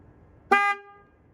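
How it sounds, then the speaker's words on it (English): A single short car horn beep from a 2013 Chevrolet Spark during a tire pressure sensor reset, clear and fairly close, in an otherwise quiet setting. "Wait until the horn sounds."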